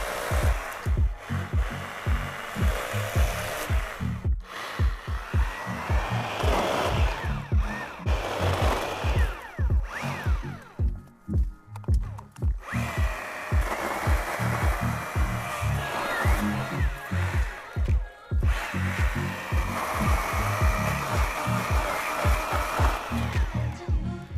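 A Stihl KMA 130R battery combi tool runs on its second power setting, a loud continuous motor whir broken by rapid rhythmic chopping pulses as it works, with short dips and changes in load throughout.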